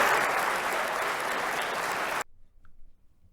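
An audience applauds steadily, a full wash of many hands clapping at even loudness for about two seconds before it stops abruptly.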